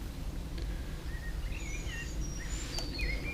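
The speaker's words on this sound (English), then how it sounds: "listening to the birds singing away." Birds sing at a lakeside fishing spot, with thin whistled chirps and short trills, fairly distant and soft over a steady low rumble of wind and aircraft noise.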